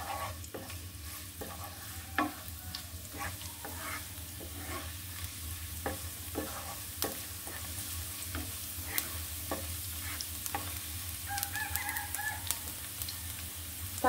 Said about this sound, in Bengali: শুকনো মরিচ। এটা আমি একটু ভেজে নিব।